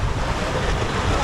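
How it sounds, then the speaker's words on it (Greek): Sea waves wash and surge steadily near a boat at sea, with a broad, continuous roar mixed with wind buffeting the microphone throughout. "Κύματα εδώ."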